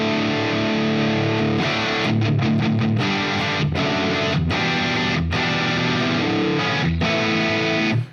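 Heavily distorted electric guitar through a Mesa Dual Rectifier amp on channel 3 modern into its matching cabinet chugs loudly through chords, with brief choppy stops and rhythmic palm-muted bursts before ringing out to a cut.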